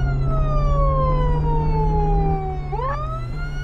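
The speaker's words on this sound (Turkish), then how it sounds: "Siren sesi çok fazla geliyorsa kısabilirim birazcık" Police-style emergency siren from the Flashing Lights driving game, loud and close, a steady wail sweeping downward then rising sharply near the end over a low engine rumble.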